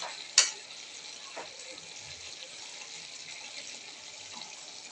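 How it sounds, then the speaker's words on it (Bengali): Fried masala for a tengra fish curry is stirred in a pan: a faint, low sizzle runs beneath one sharp clatter near the start and a few softer scrapes, with no talking. "কষানো হয়ে গেছে, এখন একটু নাড়াচাড়া করে দিচ্ছে"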